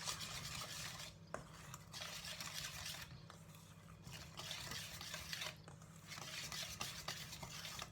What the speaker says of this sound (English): add the dry ingredients to the wet ingredients. And this was what brings the cake batter together. Stir this up.